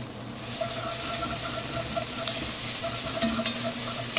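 Tomato paste sizzles in a pan with cooked-down vegetables, a steady frying hiss broken by soft scrapes and clicks of a utensil stirring, close and continuous.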